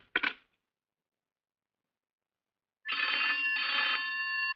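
An old telephone rings in a Hindi film: one short burst, a long silence, then a sustained bright ringing tone that continues to the end.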